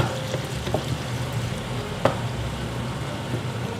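Crushed whole garlic cloves fry in hot oil with a steady, close sizzle, a few soft clicks and one sharper pop breaking the continuous crackle.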